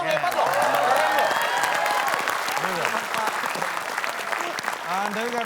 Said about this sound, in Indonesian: Tepuk tangan dong, hebat loh.